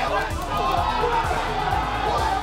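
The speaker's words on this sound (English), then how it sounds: "Envious guys in the crowd pop off." Crowd at a Street Fighter V esports match in the Gfinity Elite Series, a dense roar of cheering and chatter that holds throughout, with voices mixed in.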